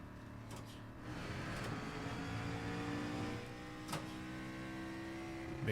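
Racing game car engine drones steadily in a continuous hum with rising and falling tones, a sharp burst near the end, loud and sustained without pauses.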